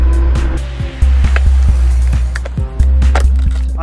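Macury Speedual Mini (Zero 8X) 52V electric scooter rolling on wide solid tires, a loud steady low hum with repeated sharp knocks and clacks as the wheels hit bumps on the surface.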